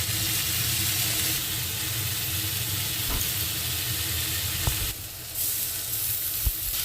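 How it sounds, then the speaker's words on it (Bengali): Boiled potatoes with salt frying in a pan, a steady loud sizzle and hiss with occasional soft knocks of stirring, and a brief surge of steam partway through. "নাড়াচাড়া করে বেশ কিছুক্ষণ নাড়াচাড়া করলাম।"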